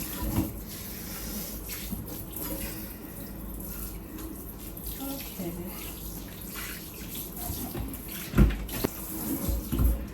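Hot water runs steadily from a kitchen tap while utensils are washed, a continuous close hiss and splash with occasional clatter and louder splashes near the end.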